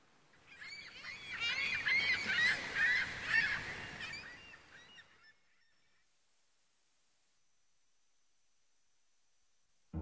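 White birds honking like geese as a theatre sound effect, a dense, loud chorus of calls for about five seconds, then cutting off into near silence.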